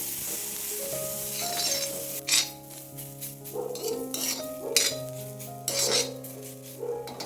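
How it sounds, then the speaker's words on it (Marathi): Onion fries in oil in a pan while being stirred, a soft sizzle under loud metallic scrapes and clinks of the spoon, with bursts of stirring and brief pauses. "छान तेलामध्ये याचा रंग लालसर होईपर्यंत कांदा चांगला भाजून घ्यायचा"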